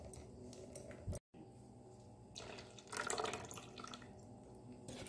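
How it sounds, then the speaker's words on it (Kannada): Water poured into thick beetroot dosa batter, trickling and splashing in two short bursts separated by a brief pause, close and fairly soft. "ಸ್ವಲ್ಪ ನೀರು ಹಾಕ್ಕೊಳ್ತೇನೆ"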